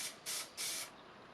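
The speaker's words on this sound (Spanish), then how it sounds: "luego con el spray una mano de pintura a la caja" A spray can of paint coats a box, the case for an AC/DC power supply built around a variac, in three loud, close bursts of hiss with short pauses between them.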